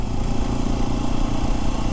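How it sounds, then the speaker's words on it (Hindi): A Hero Xpulse 210 motorcycle engine drones loud and close, with a steady low rumble and clatter as the rider eases off the speed. No voices. "बाइक की स्पीड कम कर लेंगे।"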